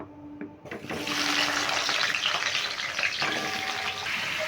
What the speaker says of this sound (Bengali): দেখো কড়াইতে যে তেলটা আছে তেল করে আমি কুমড়োটাও ভেজে নিচ্ছি একইভাবে